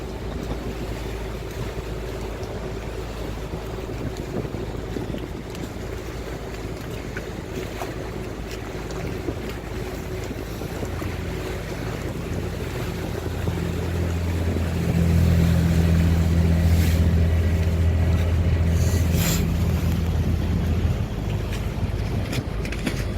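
A boat moving along a river, its steady engine hum and water wash forming a constant drone that grows louder and deeper partway through as the craft passes closer, with wind noise on top.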